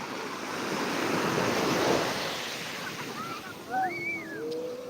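Rough sea surf, with a steady wash of breaking waves and gusting wind building and easing, a few faint whistling tones near the end.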